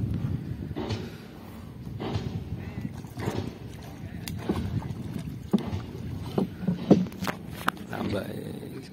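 A small wooden fishing boat rocks on open water near a Semarang–Demak sea toll project, with paddle splashes, hull knocks and low wind rumble under nearby talk.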